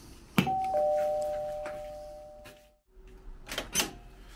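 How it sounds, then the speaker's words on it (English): A doorbell rings at the door of a recording studio: a bright chime sounds once, then fades slowly, followed by a short second burst of faint noise near the door. "Ring the bell."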